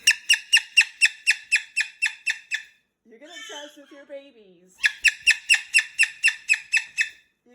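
A Moluccan cockatoo in a bedtime tantrum gives a loud, rapid string of piercing repeated squawks, stops while a person speaks, then starts again with the same rhythmic shrieking.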